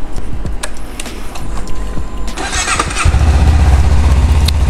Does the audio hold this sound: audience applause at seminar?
no